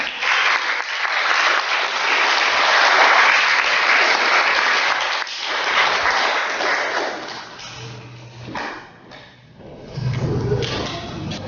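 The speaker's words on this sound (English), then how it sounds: "Let's all give her a big round of applause" Sustained audience applause at a sustainable fashion show pre-final, dense and loud for about eight seconds before thinning out, with a brief low hum and scattered claps near the end.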